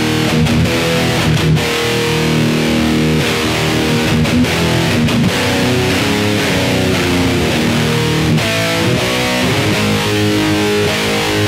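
An electric guitar plays distorted metal riffs through a Hughes and Kettner Spirit of Metal nano amp with a little reverb, continuous and loud with chugging rhythm and brief stops.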